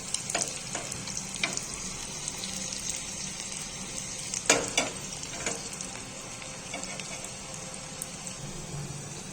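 Garlic fries in hot oil for a tempering for village-style palak bhaji, a low steady sizzle with crackles and a couple of louder stirring clinks near the middle, no speech.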